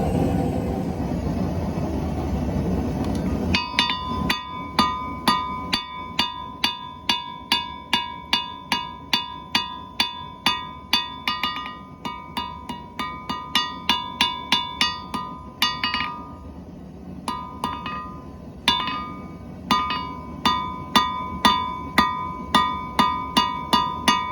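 Hot metal being hammered at a forge to flatten the tip of a piece, with sharp ringing blows in steady runs and brief pauses between bursts, loud and close, with no talking.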